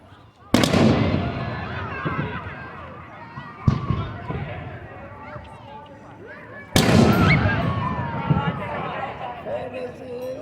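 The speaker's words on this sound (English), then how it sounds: "It's hard to catch every bit of the fireworks action." Fireworks at the Frankford Riverfest display in Quinte West burst in three loud booming explosions, each followed by crackling sizzle and echoing decay, with crowd noise and voices underneath.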